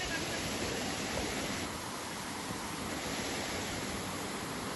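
Water pours steadily over a small waterfall in a stream, a dense, continuous rushing wash close by at an even level with no distinct breaks.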